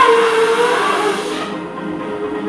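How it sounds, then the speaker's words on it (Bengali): A conch shell is blown during a puja, a loud, breathy, hooting tone that holds for about a second and a half before fading into a softer hiss. "শঙ্খ বাজাচ্ছে।"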